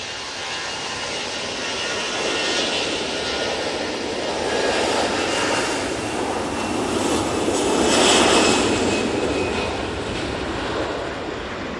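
An easyJet jet airliner passes at Manchester Airport, a broad roaring engine rumble that swells gradually, peaks near the end, then eases slightly, heard from a distance outdoors.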